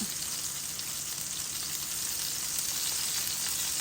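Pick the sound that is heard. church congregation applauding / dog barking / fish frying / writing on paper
fish frying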